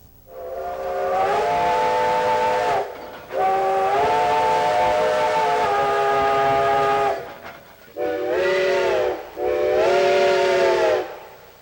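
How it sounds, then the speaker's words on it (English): A double-headed steam train departing Chama, New Mexico, toward Cumbres Pass sounds its whistle in four long, loud chime blasts, the first two sustained for several seconds and the last two shorter, with no voices. "as the double-headed train departs Chama and begins fighting its way up to Cumbres Pass"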